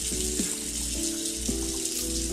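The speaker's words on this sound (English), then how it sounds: "And the water is still running." Running water from a tap in the Roblox video game, a steady hiss of flow with faint tonal chimes layered over it, no voices.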